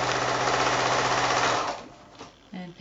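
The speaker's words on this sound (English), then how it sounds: "I'm just going to sew these together" A sewing machine stitches quilt block pieces with a 1/4 inch seam, running in a steady, fast close-up whir for over a second before stopping, followed by faint handling sounds.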